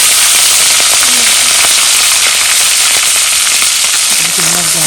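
Shrimp spit and sizzle loudly in hot pure mustard oil, a dense close hiss full of crackles and pops, with a faint voice briefly underneath near the end.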